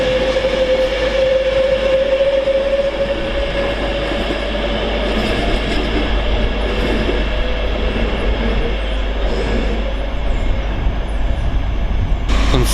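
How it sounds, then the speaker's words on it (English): Train 390002 departing Stafford on the West Coast Main Line for Liverpool Lime Street, a continuous rolling rumble with a high sustained electric whine and rail noise, steady and close throughout, with no voices. "So 390002 is due to depart now, heading off from London Euston to Liverpool Lime Street."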